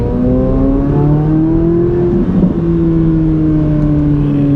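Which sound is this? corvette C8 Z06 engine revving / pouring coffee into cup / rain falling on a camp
corvette C8 Z06 engine revving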